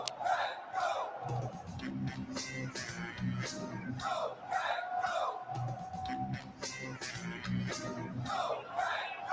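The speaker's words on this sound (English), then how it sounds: "Listen to this crowd." A large NFL Draft crowd in Green Bay roars and chants in rhythmic waves, with loud rising cheers heard from within the throng.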